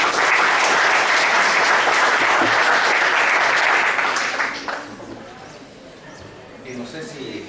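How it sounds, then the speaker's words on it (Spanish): An audience at an academic lecture applauding a doctor, dense loud clapping from many hands for about four seconds that then fades, leaving scattered claps and room murmur. "Un aplauso para el doctor."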